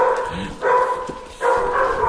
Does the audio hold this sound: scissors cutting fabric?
no